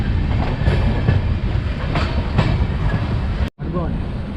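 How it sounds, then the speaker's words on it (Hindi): Ernakulam–Nizamuddin Duronto Express arriving at Madgaon Junction in Goa on the Konkan Railway, heard from inside: a steady loud rumble of wheels and carriage noise with faint clicking, briefly cut near the end. "ट्रेन हमारी पहुंचने वाली है मडगांव जंक्शन, जो गोवा शहर में आता है।"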